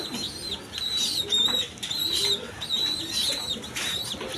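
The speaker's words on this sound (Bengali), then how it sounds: "অরিজিনাল রেশার কবুতর দেখেন" Resha pigeons cooing in repeated soft, throaty bursts nearby, with faint wing flutters and a murmur of background noise.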